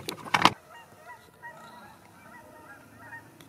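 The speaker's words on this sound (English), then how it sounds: "There's some geese flying over." A flock of geese flying over a homestead, a loud cluster of honks near the start, then fainter distant calls trailing off, with no talk.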